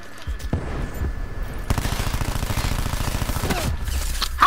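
Rapid bursts of automatic Cordite gunfire in a shooter video game, a long sustained rattle of shots preceded by a few scattered single reports, loud and close.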